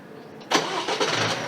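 A 2022 Isuzu MU-X fitted with an aftermarket push-start button cranks and fires up close by, a short burst of starter whir settling straight into a steady idle.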